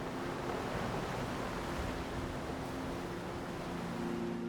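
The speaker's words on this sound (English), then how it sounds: "the Atlantic strikes towering cliffs into dramatic shapes of stone" Atlantic Ocean waves striking towering stone cliffs on Gran Canaria, heard as a constant, dense roar of surf with no distinct breaks, fairly distant and unbroken throughout.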